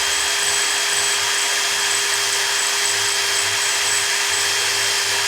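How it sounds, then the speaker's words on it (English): A cartoonishly long drill bit bores into a guitar headstock neck, a steady high-pitched whine running loud and unbroken throughout. "Will Gene destroy this neck with his cartoonishly long drill bit"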